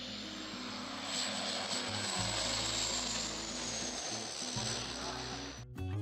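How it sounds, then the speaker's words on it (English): A firefighting airplane flying over a forest fire makes a loud, sustained droning engine roar with pulsing low tones, steady throughout before cutting off abruptly near the end. "the decision was made to call in a firefighting airplane"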